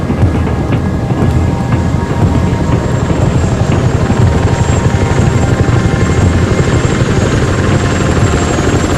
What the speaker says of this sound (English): When the helicopter did arrive